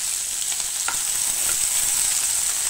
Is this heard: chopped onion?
yes